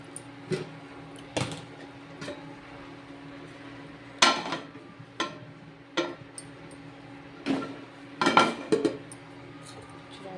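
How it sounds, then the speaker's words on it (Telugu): Metal lid set onto a pot of amaranth leaf (totakura) curry, with a series of sharp clanks and clinks at close range, several separate knocks spread across the clip with quiet gaps between. "ఇప్పుడు నేనైతే దీని మూత మీద పెట్టుకుంటున్నాను"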